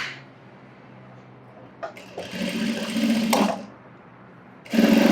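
A sewing machine stitches piping onto a blouse in two short runs of quick mechanical whirring, separated by a quiet pause, close and clear with no talking.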